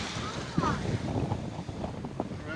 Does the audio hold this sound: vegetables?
no